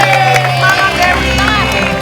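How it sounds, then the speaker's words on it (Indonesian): Audience at a Lawan Tawa comedy show applauding comedian Dewi Tabahar, a dense steady wash of clapping and crowd noise with some cheering throughout, loud and close. "tepuk tangan untuk Dewi Tabahar"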